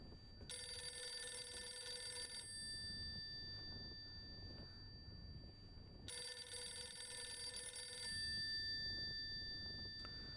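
A telephone rings in the video game Silent Hill f, two long bright electronic bursts of trilling ring separated by a pause, clear and fairly close with no talk over it.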